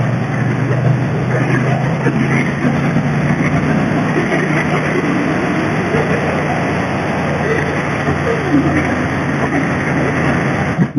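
Triumph Bonneville T120 motorcycle engine held at low revs around 3,000 while riding, a steady loud low rumble with wind noise running continuously throughout.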